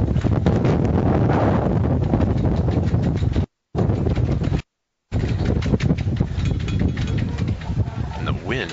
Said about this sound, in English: Big gusts coming through here again.